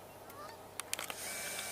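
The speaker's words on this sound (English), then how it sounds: "these are Canada geese" Canada geese honking in flight overhead, a few short nasal honks clustered in the middle, faint and distant over a steady outdoor hiss.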